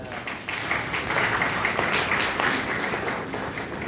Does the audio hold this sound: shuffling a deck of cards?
no